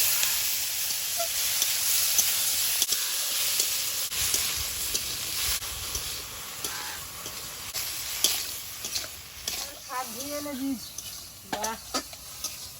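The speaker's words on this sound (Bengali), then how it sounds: "তেল দিয়ে দেবো একটুখানি হলুদ গুঁড়ো দেবো এক চিমটি চিমনিটা এক মিনিট ভেজে নেবো" Shrimp fry with a pinch of turmeric in oil, giving a steady close hiss with stirring scrapes throughout. Someone speaks briefly near the end.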